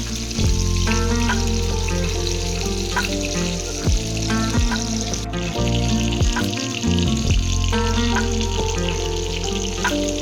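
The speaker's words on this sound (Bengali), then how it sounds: "এবার আমরা অন্য সাইডটাও সেমভাবে ভেজে নেব।" Fish frying in oil, turned to cook the other side, makes a continuous loud sizzle with tonal hums and occasional sliding tones running underneath.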